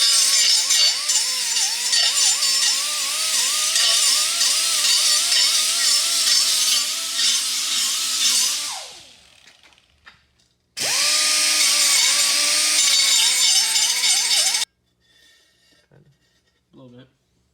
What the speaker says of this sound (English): grind the curb rash off so it looks like a little bit better than this